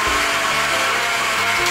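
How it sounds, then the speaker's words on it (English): A blender whirs steadily as it purees cantaloupe chunks into agua de melon, a loud, continuous motor drone that holds even for the whole stretch with no pauses. "Put in our blender here, we're gonna blend it for about 30 seconds to a minute, just so we get everything all pureed in here."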